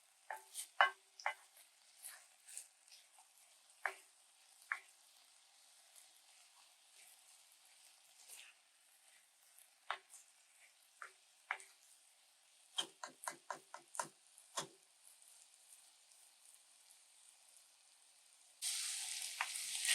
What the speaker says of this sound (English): We'll let the rice saute for 30 seconds with the onions and the garlic and the green peppers